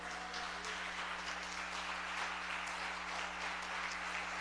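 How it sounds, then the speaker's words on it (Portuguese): A church congregation applauds during a sermon, a dense, sustained wash of clapping that stays steady and fairly loud for the whole stretch, with no speech over it. "Você pode aplaudir a Ele."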